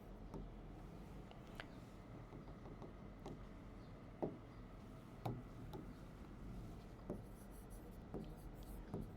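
Marker or chalk writing on a board during a business math lecture on differential calculus, heard as faint scratchy strokes and light taps at a low level against a steady room hum, with no talk over it.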